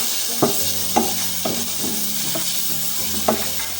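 Garlic ginger paste is stirred into light-browned fried onions in a pan for dhaba-style chana dal fry. A steady sizzle runs throughout, with several distinct scraping strokes of the spoon at roughly half-second intervals, close and clear, with no talking.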